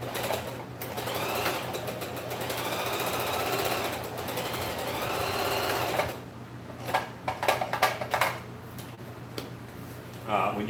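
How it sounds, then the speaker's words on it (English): A sewing machine runs in steady stretches, its motor whirring under a low hum, then stops and starts in short bursts near the end. "When you go back and forth on the sewing machine, that's called backstitching."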